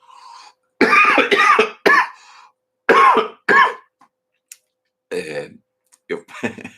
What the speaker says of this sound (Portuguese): Tô aqui tossindo.